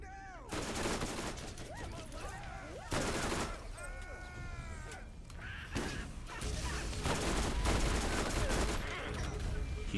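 Gunfire in the video game Borderlands: repeated loud shots and bursts, a crashing impact like a shot barrel, and chirping and squawking game effects between them, close and busy throughout.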